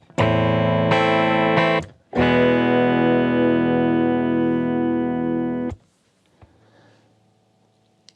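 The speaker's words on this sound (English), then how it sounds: "here's the sound of the clean guitar" A clean electric guitar picks bright notes and chords, with a short gap early on before a long sustained chord that cuts off near the end, followed by faint room noise.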